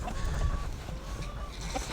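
Silkie chickens cluck in short bursts against a rough, muffled background rumble, fairly close and continuous over the brief stretch.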